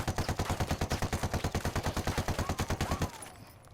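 AK-74 fired on full auto at a wall in Ghost Recon Wildlands, a rapid even stream of about thirty loud close shots for three seconds, then stopping with a fading echo.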